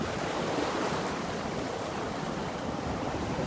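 Steady broadband roar of ocean surf breaking on the beach at Pawleys Island in the morning, a continuous wash of waves with a rough low rumble and no talk.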